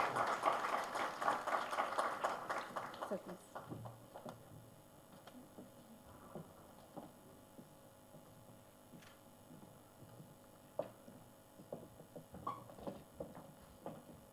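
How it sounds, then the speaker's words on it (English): An audience at a memorial lecture on food science and technology claps, a dense burst of applause that is loudest at first and thins after a few seconds into scattered claps, shuffling and room noise. "Please welcome Dr. M. Krishna with a round of applause"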